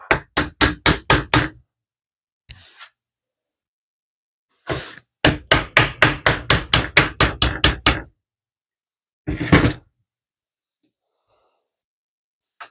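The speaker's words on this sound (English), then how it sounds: "If you can't get it when you tap it with your hand, get a small hammer out maybe." A small hammer taps a teak chair joint into place during restoration, firing off rapid bursts of close, sharp knocks, a quick run of about seven, a couple of single strikes, then a longer series of around a dozen, with a breathy sigh between.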